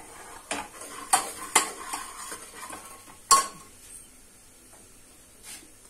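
A spoon stirring salted potato curry for aloo puri in a metal pot, with scattered clinks and scrapes against the pot over a faint sizzle.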